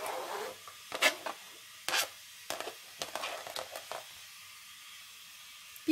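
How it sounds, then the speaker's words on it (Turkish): Chopped aloe vera leaves tumble into a pan in several short, soft bursts of rustling and scraping, close up, with quiet pauses between them. "Doğradığım aloe vera yapraklarını tavana döküyorum."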